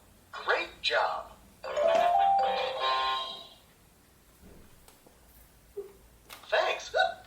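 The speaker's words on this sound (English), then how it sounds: "Thanks, Minnie, says Mickey as the doorbell rings." A doorbell chimes in a two-note ding-dong inside an animated children's story reader, sounding clearly between stretches of narration.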